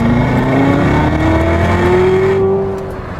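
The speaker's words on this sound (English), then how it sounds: "Floor it for either wheel spin or tremendous acceleration" A 2016 Chevrolet Corvette Z06 accelerates hard, its engine note rising steadily in a loud, close roar that holds before easing off near the end.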